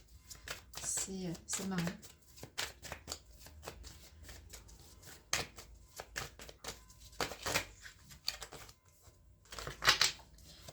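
Tarot cards are handled and drawn close by, with quick papery shuffles and soft taps in a rapid irregular rhythm, and a brief spoken remark near the start.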